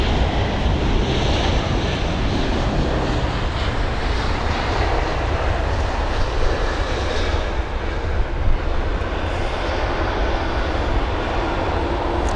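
A British Airways Airbus A350 airliner landing on runway 27 right at London Heathrow, a steady loud roar of jet engines and rushing air that holds throughout, distant but powerful, with no talk over it.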